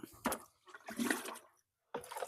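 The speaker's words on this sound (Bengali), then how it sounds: "এই যে পানি দিতেছি দুই কেজি" Water pours and splashes close by in three short gushing bursts separated by brief pauses, measured out two kilograms at a time at a cattle-fattening farm.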